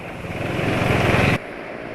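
A motorcycle engine fitted with a long air intake runs loud and close with a steady, rising drone for over a second, then cuts off abruptly to a quieter background.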